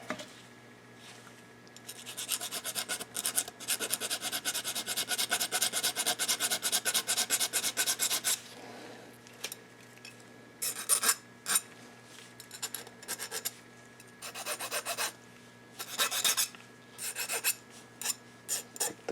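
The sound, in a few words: filing a motorcycle engine part with a file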